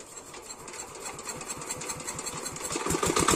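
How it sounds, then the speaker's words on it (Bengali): A village water pump set engine beside a muddy fishing pond catches and runs with a fast, steady chugging beat. It grows louder and more forceful over the seconds, and no one talks over it. "ইয়েস, স্টার্ট হয়ে গেছে, আমাদের নতুন মেকানিক স্টার্ট করে দিয়েছে মেশিন"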